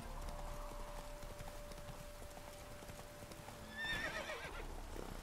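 Horse hooves clop steadily in The Witcher 3 video game, with a rhythmic thudding gait under game ambience, ending in a horse's whinny near the close.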